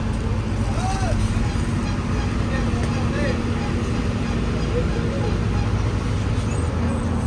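Busy Kertosono bus transit terminal with buses idling and traffic passing, a steady low engine rumble and road noise running throughout, with someone talking over it.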